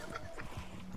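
Horse hooves clip-clop in a quick, close rhythm while riding in the Red Dead Redemption 2 video game, brief and moderately quiet.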